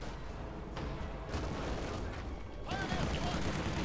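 MG42 machine gun fire in Company of Heroes 2 rattles in bursts amid battlefield noise, continuing throughout under a commentator's voice.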